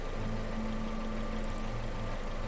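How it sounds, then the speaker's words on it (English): A small, scrappy engine in the video game UnderRail idles with a steady low hum and faint rattling vibration, unchanging and moderately quiet, with no voices. "Yep, small scrappy engine."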